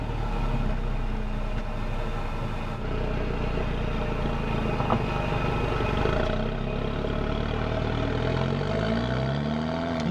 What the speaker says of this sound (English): There's a lot more noise in this than you would think when you think about a Mercedes.